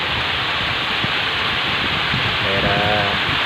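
Heavy rain with strong wind in Sobang, Indonesia, a loud, steady wash of dense hiss filling the whole clip, with a brief faint tonal squeak near the end and no voices.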